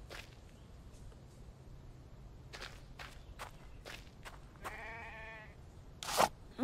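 Sheep bleat once in a survival video game, a short wavering cry amid soft footsteps on the ground, with a sharper click-like noise just after.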